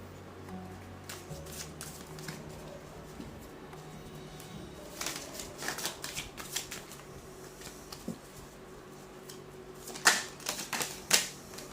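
Tarot cards are shuffled and riffled in rapid bursts of crisp, papery flicking and snapping, close and fairly quiet, spread across several seconds with brief pauses and sharper clicks near the end.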